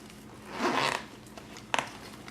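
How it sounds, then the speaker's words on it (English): A zipper on a compact bullet journal essentials kit case is tugged along in one brief burst, followed by a shorter second pull, close and fairly quiet with no talking. "Now my zip's not going to close."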